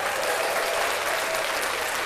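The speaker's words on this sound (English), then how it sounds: "We don't know his name, but we're gonna clap him up there." A group claps for the new head coach of a Toronto team, giving continuous dense applause with no pauses.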